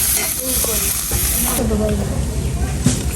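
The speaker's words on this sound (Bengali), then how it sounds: "আদা চিংড়ি এটা দিয়ে ভাজি করতেছি" Shrimp frying with ginger in a pan, cooked outdoors in the rain, gives a steady, dense hiss of sizzling oil that runs unbroken throughout, with a few brief stirring scrapes over it.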